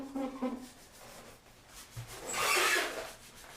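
Someone scrubs grout on a tile backsplash, making short, faint rubbing and rasping strokes, with a louder scouring burst late in the clip.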